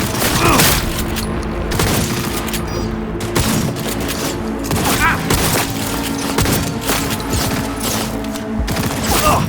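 Dense gunfire rattles nonstop in Cyberpunk 2077, overlapping shots and booming impacts close and loud, with voices shouting under the firing.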